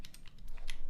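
Typing on a Sonnet keyboard fitted with ceramic keycaps: a quick run of bright, clacky keystrokes, close and clear, with no talk over them.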